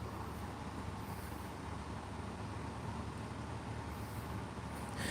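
Steady low rumble of a train departing for Lisburn, a continuous broadband roar with no voices.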